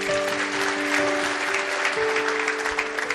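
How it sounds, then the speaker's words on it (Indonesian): Congregation at a church sermon breaks into sustained applause, dense steady clapping filling the room, with a few held organ or keyboard tones sounding underneath. "Beri tepuk tangan."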